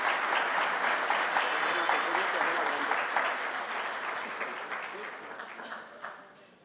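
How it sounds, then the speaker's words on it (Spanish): A crowd at a workers' event applauds the logistics team, dense sustained clapping that slowly thins and fades toward the end. "Un aplauso muy especial para los compañeros del equipo logístico."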